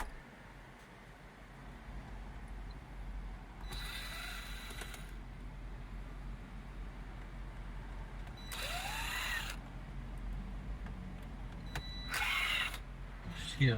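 A power screwdriver runs in three short, separate whirring bursts as screws come out of the radio display of a 2016 Range Rover Sport. The bursts are close and fairly quiet over a low background hum.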